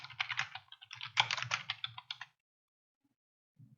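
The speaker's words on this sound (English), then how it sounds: "in the home screen, type in my shop name" Typing on a computer keyboard while entering a shop name into a craft design program's search field: a quick, close run of clicky keystrokes for a couple of seconds, then silence broken by one or two isolated taps.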